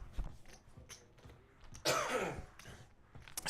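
A single harsh cough bursts out close by, loud against quiet surroundings with faint shuffling before and after.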